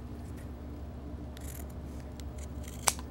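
Scissors make a single short, crisp snip through denim apron fabric, with quiet steady room noise around it.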